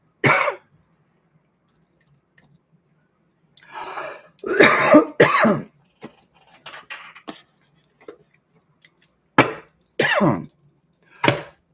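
Several sharp coughs in bursts, some single and some in quick pairs, close and fairly loud, separated by quiet gaps.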